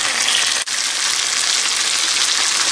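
Fried vegetables go into chicken jalfrezi over a high flame, giving a loud, dense, close sizzle that holds steady apart from one brief dip.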